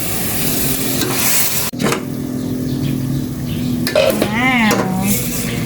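Capsicum-free Filipino mung bean dish base being sautéed and stirred in a pan before the mung beans go in: a steady close sizzle with scraping and clinking of a utensil against the pan, and a brief sharp knock partway through.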